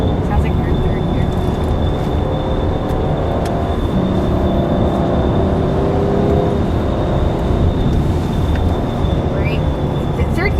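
A 2014 Cadillac CTS twin-turbo engine holds a steady, loud drone in third gear around the Mosport racetrack, with road and wind roar filling the cabin throughout.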